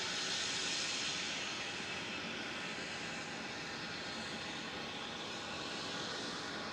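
At Melbourne Airport at night, an Airbus A380 gives off a broad, steady jet roar that stays strong throughout, swelling slightly at the start and holding at a distance without speech.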